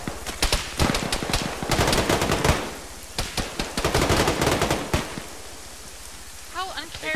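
Rapid bursts of automatic gunfire, some close and loud, others quieter, in irregular volleys with short pauses between them.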